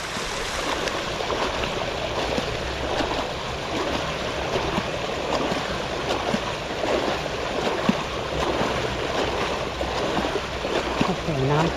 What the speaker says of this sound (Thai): วันนี้พาจักรยานมาปั่นลุยคลองคลองที่ไหนมันคือถนนครับผม